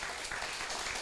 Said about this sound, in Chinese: 咱我甲班长鼓掌一下。